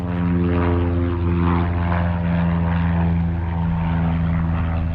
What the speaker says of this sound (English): Nothing like an airplane taking off.